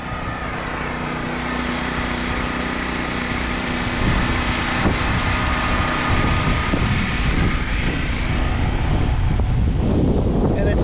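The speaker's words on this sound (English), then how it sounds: "the wind is supposed to keep up till later today or early tomorrow" Strong wind roaring during a nor'easter storm, a steady loud rush building over about eleven seconds, with a generator's hum running underneath.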